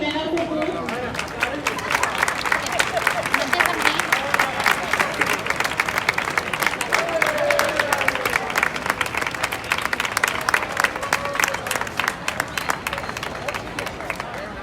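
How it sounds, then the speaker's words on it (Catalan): A street crowd at a giants' gathering applauds loudly for the Nan Cucut giant, with dense, sustained clapping, crowd babble and occasional cheers running underneath for a long stretch. "I fem un fort aplaudiment al Cucut"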